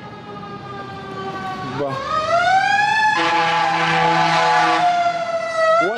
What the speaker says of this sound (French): Ça fait un boucan l'ambulance.